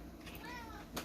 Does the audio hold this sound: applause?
no